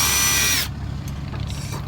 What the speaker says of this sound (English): we're going to get our pre-drill bit, use the actual bracket as a guide